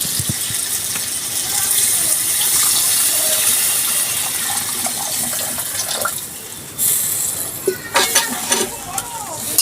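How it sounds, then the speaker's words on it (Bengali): Water pours into a pan of tengra fish cooking in spices, producing a loud, continuous rushing hiss up close, followed by scattered clatters and stirring sounds near the end. "এবার আমি জল দেবো"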